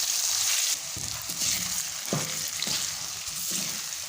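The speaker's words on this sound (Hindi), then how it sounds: "यहाँ पे 3 मिनट तकरीबन मैं इसको फ्राई करूँगा मीडियम फ्लेम के ऊपर" Potatoes and carrots fry over a medium flame, sending up a continuous hiss of sizzling oil punctuated by several spoon scrapes and knocks against the pan, heard up close with no speech.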